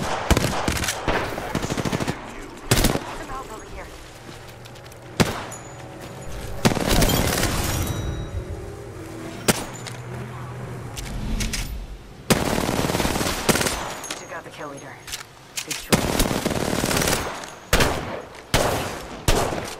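Bursts of automatic gunfire in the battle-royale shooter Apex Legends crackle loud and close, broken by short pauses and scattered single shots, with occasional heavier booms.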